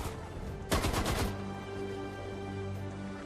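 Gunfire in the World War II strategy game Sudden Strike 4 during the Battle of Salla, a short rattling burst of automatic fire over a steady engine drone.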